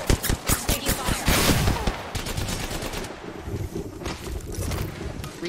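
Rapid automatic gunfire in Apex Legends, a fast, steady rattle of loud shots that eases into a denser, fainter spray of fire mixed with wind-like noise.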